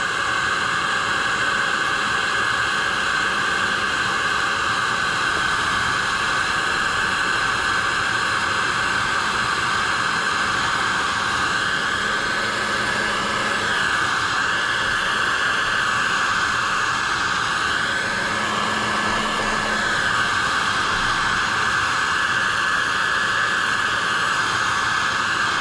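Steady hot-air blast from a heat tool used while repairing eyeglasses, a loud continuous broadband hiss like a hair dryer that runs unbroken throughout, with no talking.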